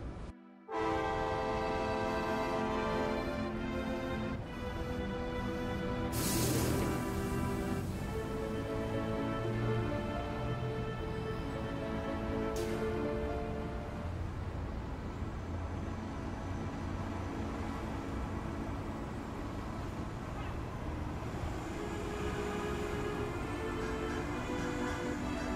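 Train rolling along in Final Fantasy VII (2024 mod version), a steady droning rumble layered with sustained tonal whistle-like hums, continuous and loud for the whole stretch, without talk.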